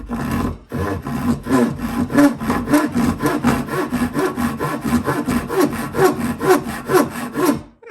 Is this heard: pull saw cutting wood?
yes